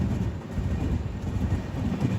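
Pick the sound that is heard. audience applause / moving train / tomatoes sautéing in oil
moving train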